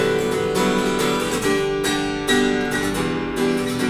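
Acoustic guitar from a JS Guitars unboxing being strummed in steady, full chords, several strokes in a row with ringing sustain, loud and close with no talking.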